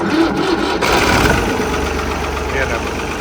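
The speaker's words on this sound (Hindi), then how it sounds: "तो अब देखते हैं हमारे न्यू हॉलैंड 5500 की आवाज़।" A New Holland 5500 tractor engine with a rotary pump, running without a silencer, gives a steady loud rumbling drone throughout, with a brief rougher patch early on.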